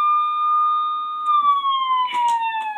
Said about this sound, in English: Emergency vehicle siren.